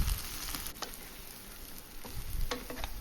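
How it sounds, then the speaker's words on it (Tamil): Fried chicken tipped into a pan of sautéed onions and curry leaves, with a continuous close sizzle broken by scraping stirs and sharper clatters near the start and end, and no talking. "இப்போது நம்ம பொரிச்சு வச்ச சிக்கனை அதில் சேர்த்துக்கலாம்."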